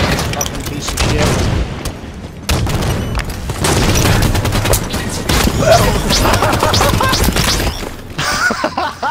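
Rapid bursts of gunfire and explosive booms from a Halo 5 multiplayer match, including sniper shots and rocket-launcher blasts, fill the whole stretch loudly and densely, with players talking over the action.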